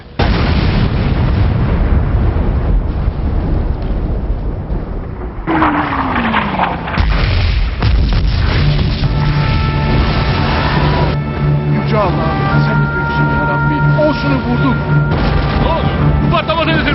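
Naval cannon fire and shell explosions striking an enemy ship, heavy booms and bursts amid a dense battle din, with a falling whistle and a sustained tone later, and voices shouting over the noise.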